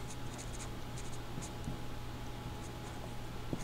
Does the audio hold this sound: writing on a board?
yes